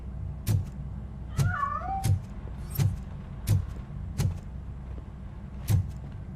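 Inside the video game RoboCop: Rogue City, a cat gives a few brief meows early on, set among repeated heavy thumping footsteps or impacts at a steady pace.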